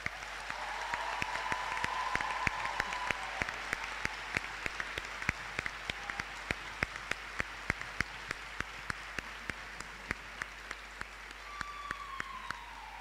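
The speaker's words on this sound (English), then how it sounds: "Please give them all a round of applause." Audience applause for teachers at a prize-giving ceremony, a sustained wash of many hands clapping in a large hall, fairly distant and soft, steady throughout with a few sharper claps standing out.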